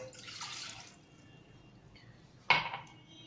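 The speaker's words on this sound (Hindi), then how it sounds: "इसमें जाएगा 1 गिलास पानी का" A glass of water is poured into a pickle of cucumber with green and red chillies, making a soft rushing pour at first, then a sharp splash and clink near the end, with no talking.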